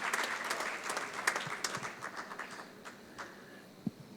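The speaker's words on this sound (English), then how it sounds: "A round of applause for Shri Suraj Prakash." Audience applause at a mining and critical minerals conference panel in India, fairly faint and crowd-wide, with scattered clapping that thins out and fades over a few seconds.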